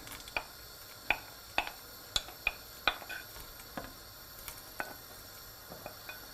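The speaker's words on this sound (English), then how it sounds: "We'll just give it a quick stir." A spoon stirs Iranian ash soup with chickpeas and meatballs in a pot, making about a dozen light, irregular clinks and scrapes against the metal. The sounds are close but fairly quiet, with no talking.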